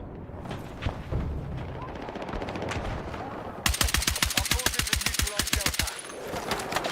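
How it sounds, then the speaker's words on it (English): Gunfire in the video game Battlefield 6 starts with scattered shots under a busy battle din, then becomes a loud, rapid automatic burst of evenly spaced cracks lasting about two seconds before fading into background noise. "That was a sniper."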